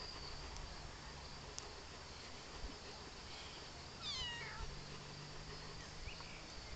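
A cat gives a single short meow midway through, faint and somewhat distant, over a steady background of cricket-like insect chirring.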